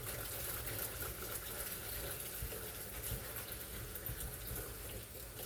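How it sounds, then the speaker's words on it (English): Hot water runs steadily from a tap into a basin, a faint continuous gushing and splashing with no clear speech. "You just need to get a couple of inches worth of water in there."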